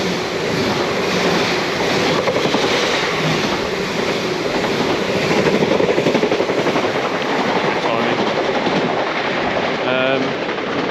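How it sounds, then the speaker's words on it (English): A train rumbles past close by, a loud continuous roar with rhythmic clatter of wheels over the rails, holding steady for the full ten seconds. "There's a train coming by."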